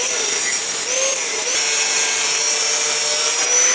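Metal pipe being cut for a home-built cycle car, a steady, close, unbroken cutting and grinding roar with a faint ringing tone that holds for the whole stretch, with no talking.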